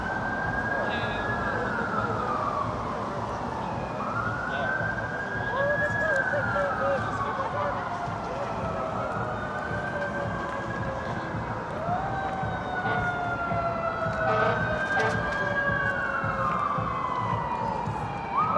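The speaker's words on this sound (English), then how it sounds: "I hear more sirens." Fire department and other emergency vehicle sirens wail in long rising and falling sweeps at a protest outside an immigration facility in Portland, Oregon. They are loud and continuous over a steady background din.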